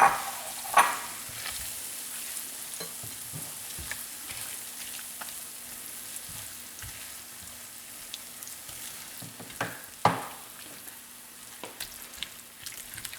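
Softened cream cheese stirred into a warm pan on a Big Green Egg for smoked pork enchiladas, giving a soft ongoing scrape and faint sizzle with occasional sharp utensil knocks, close and without talk.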